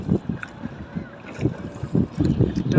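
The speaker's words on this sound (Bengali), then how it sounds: "আমি নৌকা দিয়ে পার হচ্ছি" A boat crosses a swollen river near Jinjira town, with low rumbling water and wind noise churning steadily close to the microphone, and faint voices in the background.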